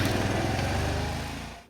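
A 1985 Honda Elite 150 scooter engine runs with a buzzing, high-pitched small-engine drone close by. It holds steady, then fades and cuts off near the end.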